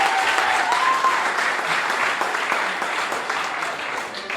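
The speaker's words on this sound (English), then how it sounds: "let's give you another round of applause" An audience at a World Occupational Therapy Day speech in Zimbabwe gives a warm round of applause, dense and steady clapping that holds evenly for a few seconds with a faint whistle early on.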